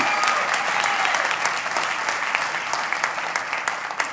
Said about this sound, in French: Est-ce qu'on peut applaudir notre identité en Jésus-Christ?